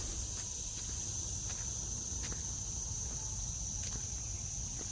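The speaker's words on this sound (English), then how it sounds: "Never heard all these insects and birds and stuff that you hear over here." Insects chirp and buzz steadily in a park woodland, with a high continuous insect drone and a few faint, brief calls over quiet ambient background, no talking.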